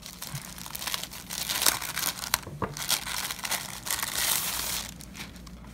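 Packaging from a women's RFID-blocking genuine leather bifold wallet is handled during unboxing. Close, fairly quiet crinkling and rustling of paper and plastic comes in irregular bursts.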